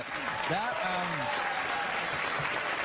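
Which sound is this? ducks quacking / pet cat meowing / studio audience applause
studio audience applause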